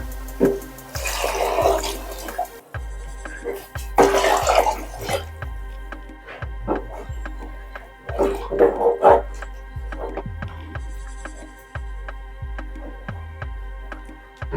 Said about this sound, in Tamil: நான் சுடுதண்ணி வச்சுருக்கேன், ஒரு பக்கம் காய வச்சு வச்சுருக்கேன், அது ஊற்றிக்கலாம்.